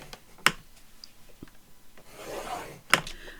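A scoring tool draws across paper on a scoreboard at half-inch and eighth-inch marks, giving soft rubbing scrapes punctuated by two sharp clicks, close and quiet with no talking.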